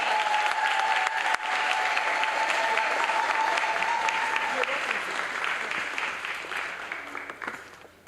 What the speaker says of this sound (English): Let's give a great round of applause for Dr. Tanisha D. House.